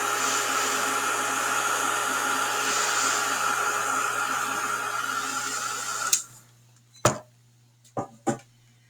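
Hair dryer blowing on wet paint on a snow bells painting: a loud, steady whooshing hum runs for about six seconds, then cuts off, followed by a few sharp clicks and knocks in the quiet.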